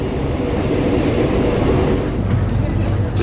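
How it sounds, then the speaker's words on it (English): A passenger train on Malaysia's East Coast Line, the Jungle Railway, pulls into a small station, its steady low rumble and rolling rail noise filling the car loudly and continuously, with faint voices in the background. "Train stopping at a small station along the Jungle Railway"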